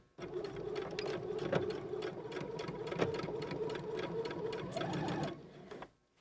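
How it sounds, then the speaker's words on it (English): A sewing machine back stitches a sleeve in a close, continuous mechanical whir with a fast, even rhythm for about six seconds, then stops abruptly. "we're going to go back to the machine and we're going to sew right on that stitching"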